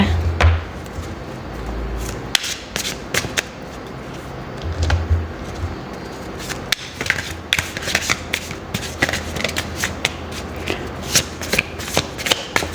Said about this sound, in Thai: ดี๋ยวเรามาเปิดไพ่ทารอตกันนะคะ ออกมาสองใบนะคะ